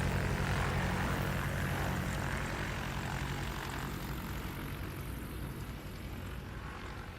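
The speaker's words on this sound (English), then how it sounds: "Like seeing Snoopy on the side of that 182. Here they go, taxiing by again." Cessna 182 propeller airplanes taxi by at an airport during a STOL practice event, a loud continuous engine drone and prop buzz that slowly fades as they pass, with no talking.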